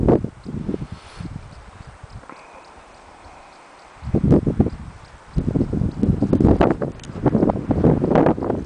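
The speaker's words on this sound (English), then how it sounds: "It's a little windy here, so that's why it's a little bit shaky." Gusty wind blows across an outdoor microphone beside the Grays River in the late afternoon, with heavy low rumbling bursts and a calmer stretch in the middle. No one speaks.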